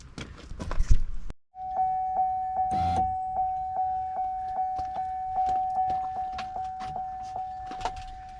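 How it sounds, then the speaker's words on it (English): A car's warning chime rings steadily with the ignition key turned on during an electric window regulator repair, a fast regular series of bright dings running for several seconds after a brief clatter at the start. "I can't stand that bell ringing"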